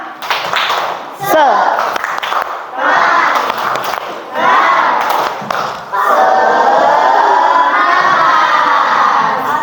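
Schoolchildren in a classroom perform the Indonesian tepuk semangat clapping chant, shouting in bursts with claps between, ending in a longer sustained group shout.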